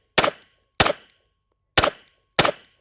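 Four sharp pistol shots from a competition handgun, fired in two quick pairs at close range, each a loud crack with a short decaying tail and silence between.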